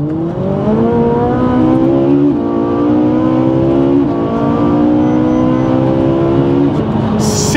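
Ferrari 458 Italia engine winds up through repeated hard accelerations, loud rising howls broken by quick gear shifts, heard close from inside the car without talk.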